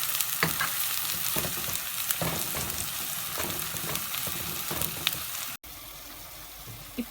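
Onions frying with ginger garlic paste and a pinch of turmeric for chicken curry: a steady, close sizzle with regular stirring clicks and scrapes, briefly cutting out before resuming more quietly.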